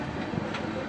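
Sairang–Kolkata Express 13126 rolling slowly into platform 5 at Azimganj Junction, a low steady rumble of wheels and carriages close by, with a person talking over it.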